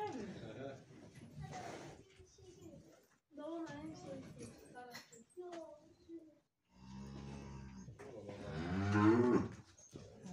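Several cows moo loudly and close by, long low calls one after another, with people talking in between.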